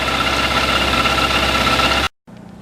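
An engine with leaking carburetors idles loud and close in a steady, even rumble, then cuts off abruptly, leaving a quieter low hum.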